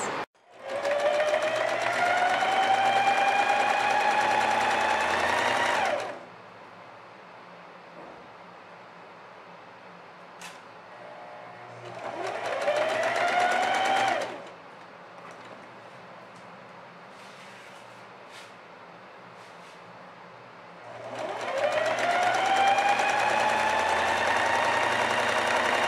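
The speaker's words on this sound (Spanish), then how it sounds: "Realizamos costura con overlock en ambas mangas." Overlock sewing machine stitching sleeves, three loud whirring runs, each spinning up in pitch and holding for several seconds, separated by quieter pauses with faint handling of fabric.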